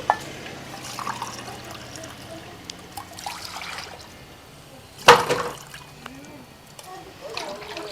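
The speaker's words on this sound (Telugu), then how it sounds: "ఒక గ్లాస్ సద్దలకి మూడు గ్లాసుల నీళ్ళు పోసుకున్నా" Water is poured from a glass into a cooking pot for pearl millet, gentle trickling and splashing heard faintly beneath someone talking nearby.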